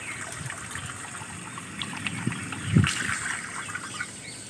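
Water trickling and splashing softly while hands are washed outdoors at a village water chamber, a faint, steady running flow with a brief louder splash near the middle.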